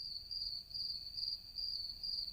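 Crickets chirp at a lake in a steady, high, continuous trill that pulses slightly, moderately distant with no other sounds.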